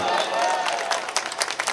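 A mushaira poetry recital audience in Barabanki breaks into a broad wash of applause, a steady crowd clatter with sharper bursts of clapping toward the end.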